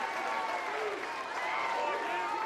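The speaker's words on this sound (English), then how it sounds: "Markham's going to get a round of applause" Baseball crowd at a Troy vs Little Rock game giving steady applause, a dense even wash of clapping from a large stadium audience, with an announcer talking over it.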